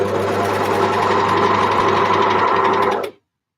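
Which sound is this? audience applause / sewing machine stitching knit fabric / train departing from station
sewing machine stitching knit fabric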